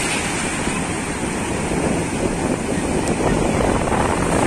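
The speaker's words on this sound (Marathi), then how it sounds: "लाटा बघा किती कशा मस्त वाहतात. एक एक लाट मस्त येते इकडे असे." Sea waves roll onto a beach in a steady, loud roar, mixed with heavy wind buffeting on the microphone and no voices.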